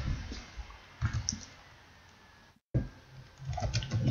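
Computer keyboard typing while entering a WAMP directory path on a localhost setup, quiet clicks in a few loose bursts with a brief dropout near the middle and no talking.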